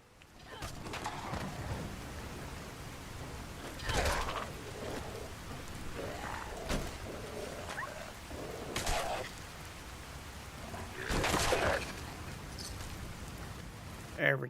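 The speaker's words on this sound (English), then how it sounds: "Oh boy, we got a rainstorm." A rainstorm hisses steadily in a foggy outdoor game scene, with a continuous wash of falling rain broken by occasional louder cracks and rumbles, and a voice talks briefly over it.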